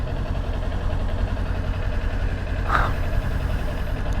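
Motorcycle engine idling with its loose exhaust zip-tied up, a steady low rumble running evenly throughout, with a brief higher whine or passing noise near the three-second mark.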